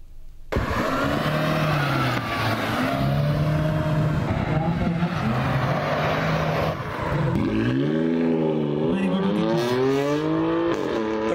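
Rally cars racing flat out on a 2-kilometre autocross track at the Hub Rally near Karachi, engines roaring loudly and continuously with rising and falling revs as cars pass close by.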